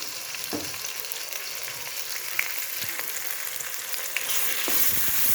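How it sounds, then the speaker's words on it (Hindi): Green chili and ginger-garlic paste sizzle and fry with mixed vegetables in a pan, a steady crackling hiss with occasional stirring scrapes and small pops throughout. "और इसको भी अच्छे से भून लेते हैं"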